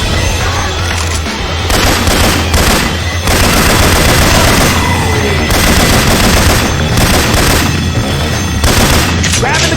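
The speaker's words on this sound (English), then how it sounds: "Grenade!" In the video game Left 4 Dead 2, a grenade explodes amid dense, loud gunfire that keeps up in rapid bursts, with brief gaps and heavy booms running through it.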